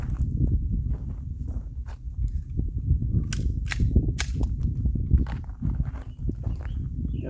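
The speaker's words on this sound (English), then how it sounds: "Draw and fire 3 rounds on each target in 8 seconds." A handgun fires quick strings of sharp, loud shots, three rounds on each target, outdoors at a law-enforcement qualification range, the reports coming in clustered bursts over a low background rumble.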